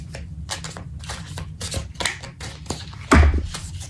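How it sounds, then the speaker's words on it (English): A deck of tarot-style cards being shuffled by hand, a rapid series of close, crisp riffling and slapping bursts ending in a louder thump as the cards are squared up. "I'm going to shuffle."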